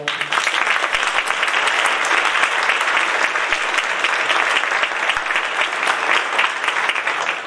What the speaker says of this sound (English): So a round of applause for Marlene.